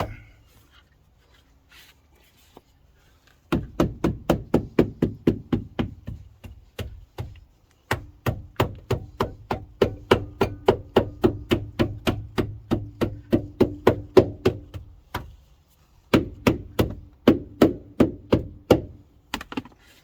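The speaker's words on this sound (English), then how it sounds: "I want to hammer it in all the way to make sure they meet good." Rapid, evenly spaced hammer taps ring out in long bursts, pausing briefly between runs, close and sharp, hammering a running board weather strip into place on a Ford F-150.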